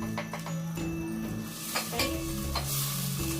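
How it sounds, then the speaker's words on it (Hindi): Mutton cooking with crushed chilli and turmeric over low heat, a steady soft sizzle with occasional scrapes and stirring clatter from the pot, close and continuous, no voices. "देखिए हमारा गोश्त ना हल्की आंच पे गल रहा है।"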